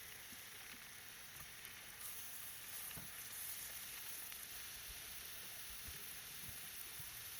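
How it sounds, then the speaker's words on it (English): Ground sausage, about a pound, sizzles and fries in an oiled pan for a Tuscan-style sausage, peppers and onions dish, a steady close crackle with faint stirring taps and no talking. "So once we get the ground sausage in the pan,"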